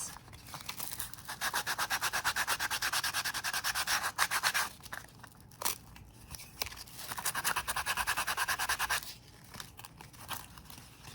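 Sandpaper is rubbed back and forth against the edges of a small handmade monarch mini tag in fast rhythmic bursts, with short pauses between the runs of strokes.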